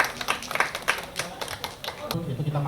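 Small studio audience clapping for a guest during an Indonesian entertainment interview about an animated film, a few seconds of scattered, moderately close claps with voices murmuring underneath.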